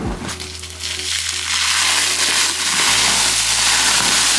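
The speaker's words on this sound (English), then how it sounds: "air is coming out, so that you hear?" A steady rushing hiss of air escaping from a tightly packed bag, continuous and fairly loud, with a low hum beneath it.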